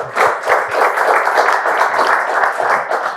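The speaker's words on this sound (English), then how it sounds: "It's a good place to clap." Applause from a game show studio audience, a dense steady patter of many hands clapping at close range, continuous and fairly loud for a few seconds with no talk over it.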